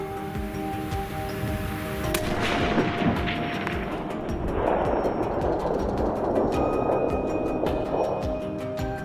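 A hunting rifle fires at a wild boar on a frozen, snowy mountain, with a sharp crack near the start and a heavy rumbling report that rolls on loudly for several seconds.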